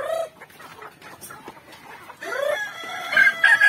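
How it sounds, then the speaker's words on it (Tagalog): Native chickens cluck and squawk close by at feeding time, with several overlapping calls that grow louder and busier toward the end. "pakainin natin yung mga manok natin"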